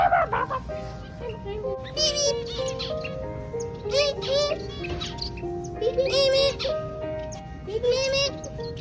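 A sun conure parrot at a pet store gives repeated shrill, warbling chirps and squawks, close and fairly loud, in short uneven bursts.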